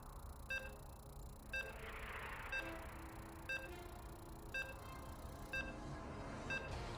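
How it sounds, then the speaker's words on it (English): Short electronic video game loading beeps sound about once per second, evenly spaced and crisp, over a dull background murmur. "You can hear the beeps."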